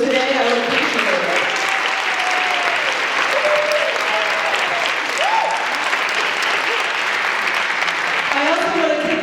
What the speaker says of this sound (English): get a round of applause from folks in the room today